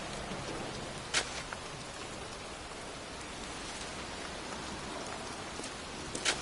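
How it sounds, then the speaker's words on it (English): Steady pouring rain in the video game Heavy Rain, set in a cemetery, forms a continuous wash of hiss with a few sharper drip or splash accents, heard alone without talk. "here I am, standing in a cemetery in pouring rain"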